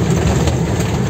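Engine of a Tatra truck on its first drive through a village, a steady, loud low rumble and drone running continuously without breaks.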